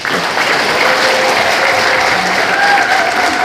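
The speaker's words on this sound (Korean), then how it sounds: "큰 박수 한번 더 주십시오." Loud, sustained applause from a crowd at a civic public forum in Busan, dense clapping from many people holding steady throughout without a break.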